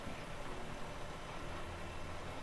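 A tractor engine idles in the Farming Simulator 17 game, a constant low rumble with a steady engine drone, and no talking.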